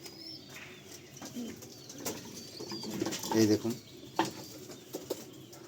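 Pigeon chicks, one of them a Jagsathi, give soft cooing calls with a few quick wing flaps at close range, while someone speaks briefly over them.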